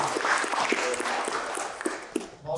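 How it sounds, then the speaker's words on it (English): An audience at a Yale University School of Medicine summer bootcamp gives a steady round of applause, dense continuous clapping from a room of people, fairly loud and sustained without interruption. "I just really want to give them a big round of applause."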